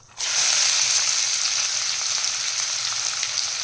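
Finely chopped onions, three of them, hit hot oil in a kadhai for paneer masala and break into a loud, steady sizzle that stays even and close throughout, with no voices over it.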